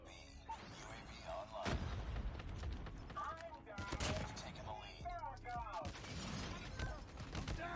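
Gunfire from an Arctic 50 rifle in the Call of Duty Mobile video game, several loud, sharp shots spread across the moment amid busy game effects, with a player talking over parts of it.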